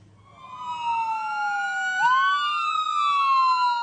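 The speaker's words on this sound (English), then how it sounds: "Those screaming sirens." An emergency vehicle siren at a Cleveland robbery shooting scene wails continuously, its pitch sweeping down then rising again, loud and steady with no voices.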